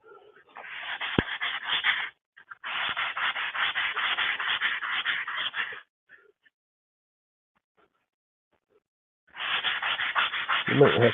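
Hand sanding of wood by hand, with long bursts of dry abrasive rubbing: two sustained passes, a pause, then another stretch of steady scratchy strokes, close and fairly loud.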